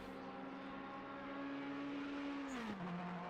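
GT3 race car engine at Mount Panorama pulling out of the pits, a steady droning tone holding then dropping in pitch as it shifts, heard at moderate distance over track ambience.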